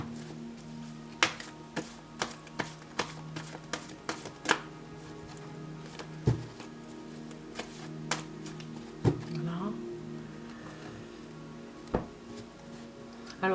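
A pile of oracle cards is shuffled by hand, producing a series of soft card taps and riffling clicks at an irregular rhythm, close and fairly quiet.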